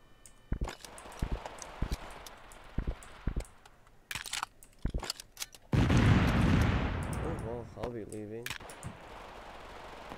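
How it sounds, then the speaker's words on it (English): Gunfight in the game Totally Accurate Battlegrounds: scattered sharp gunshot cracks, some in quick bursts, followed by a louder sustained roaring burst like an explosion or engine, with a person talking over parts of it. "Gunfight happening up over there."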